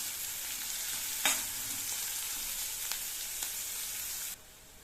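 Onion sautéing in hot oil for a mushroom gravy, a loud steady sizzle with a few clinks of a spoon stirring the pan, cutting off abruptly near the end to a quieter hiss.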